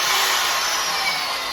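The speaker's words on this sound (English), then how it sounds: "So now we take a little mixing stick here. That's what we're going to use. It's on an electric drill." An electric drill spins a mixing stick through a bucket of ceramic glaze, giving a loud, steady whirring and churning that holds at one level throughout, with no talk over it.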